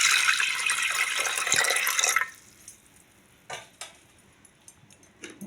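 Water is poured into a pressure cooker holding chopped peas and potatoes: a loud, steady splashing stream lasts about two seconds, then stops, followed by a few scattered drips and light clinks.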